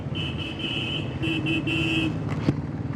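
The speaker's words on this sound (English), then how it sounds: "I'm very used to using my horn now." A motorcycle horn on a ride through traffic near Kandy, Sri Lanka, sounds in several short close toots over a steady engine and road rumble, ending with a sharp knock.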